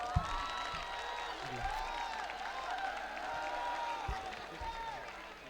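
Applause from an audience at a college valedictory prize ceremony, steady and loud throughout, with voices calling out over the clapping.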